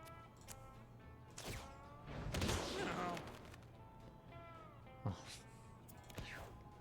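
Cartoonish cat meows ring out repeatedly from the Mewgenics video game, mixed with bursts of rapid gunfire-like combat effects and layered game sounds, loud and close.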